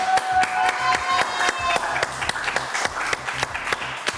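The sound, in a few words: audience applause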